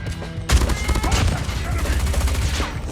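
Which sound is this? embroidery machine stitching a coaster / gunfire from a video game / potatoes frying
gunfire from a video game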